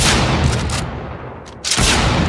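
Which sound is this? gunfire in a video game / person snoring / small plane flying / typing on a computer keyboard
gunfire in a video game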